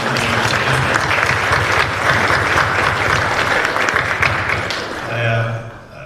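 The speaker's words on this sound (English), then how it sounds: "a big round of applause for DECA for that" Loud, full applause from an audience for DECA, a thick continuous roar of clapping with a murmur of crowd underneath, easing slightly near the end as a voice rises.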